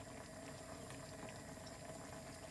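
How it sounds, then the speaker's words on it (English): A Salisbury steak sauce, thickened and seasoned with Worcester sauce, bubbles steadily in a pan, a soft continuous simmering burble with small pops, fairly quiet and with no voices. "that's been bubbling away now for a couple of minutes. As you can see, it's nicely bubbling."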